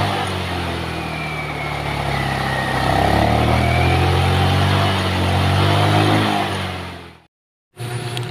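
A Rusi Royal GY6 motorcycle engine, previously stalled on the road, running steadily close by with a loud even drone that swells slightly mid-way before cutting out abruptly, then briefly resumes.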